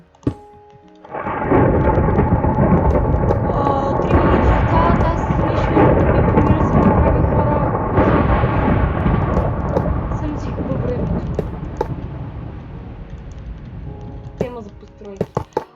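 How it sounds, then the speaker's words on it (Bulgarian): Thunder and rain from a video game storm surge in abruptly, a loud continuous rumble that slowly eases off, and a voice talks briefly near the end. "Мина ли вече тази буря?"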